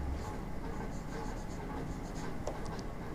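Writing on a board during a maths lesson, a continuous soft scratching and scraping of the writing tool, close and fairly quiet over a steady background hiss.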